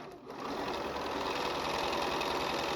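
A sewing machine stitches along a drawn line on 2.5-inch fabric squares, chain piecing corners for a Valentine quilt block; a steady, continuous motor whir and rapid needle rhythm run close and loud through the whole stretch after a brief start.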